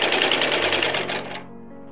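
A Wheeler & Wilson 12W102 long-arm industrial tailoring and leather sewing machine runs at a fast, steady, rattling clip, loud and close, then slows and winds down to a faint hum near the end.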